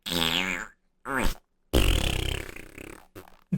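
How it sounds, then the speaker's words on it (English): Wet fart sound effect played on a fantasy football podcast: several squelchy, sputtering bursts with pauses between them, the longest a loud, drawn-out rasp, close and clear with no talking over it. "This was a real wet fart."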